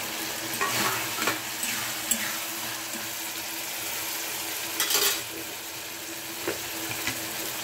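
Tomatoes tossed into masala frying for a fish curry: a continuous close sizzle in the pan, with stirring scrapes and a few louder spitting bursts, no talk.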